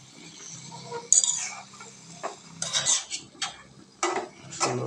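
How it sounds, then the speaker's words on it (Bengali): Gourd leaves, potato and beans being stirred in a pan for a village dried-fish greens dish, with a utensil scraping and clinking against the metal in irregular bursts, close and moderately loud, no talking. "শাকগুলো সুন্দর করে নাড়াচাড়া করে নিচ্ছে।"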